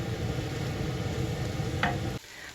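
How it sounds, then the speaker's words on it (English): Kale wilts in a hot pan with a steady close sizzle and stirring, then the sound drops away abruptly near the end. "let's add in the kale. And we're just going to cook it long enough to let the kale wilt down."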